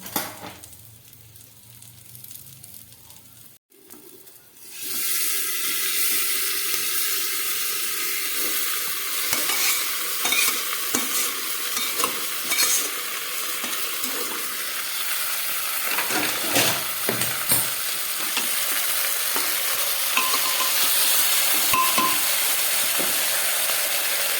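Sautéed chicken is added to potatoes in a pan and fried, giving a loud, steady sizzle and hiss after a quiet start, with occasional stirring scrapes throughout and no talk.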